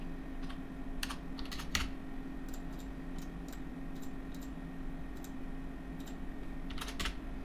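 Steady typing on a computer keyboard during AutoCAD drafting, with rapid clustered key clicks in irregular bursts over a constant electrical hum, close and moderately loud with no talk.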